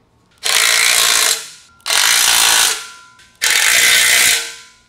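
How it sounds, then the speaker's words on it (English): Three long ratcheting bursts from a wrench tightening bolts on a Valor Fitness CB-29 glute ham developer during assembly, each loud, close and evenly spaced with short pauses between. "then we'll go ahead and tighten all of them down that we just did"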